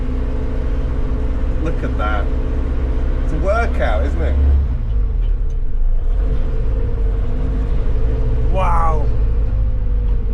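An old Mercedes car on the move, its engine giving a steady low rumble under the cabin, heard from inside while people talk and exclaim over it.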